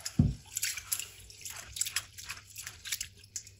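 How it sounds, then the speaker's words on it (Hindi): Dal lentils are rinsed in water in a home kitchen: a dull knock, then scattered close drips and sloshing splashes at low volume, with no voices. "इसको अच्छी तरह 2-3 पानी से धो लेंगे।"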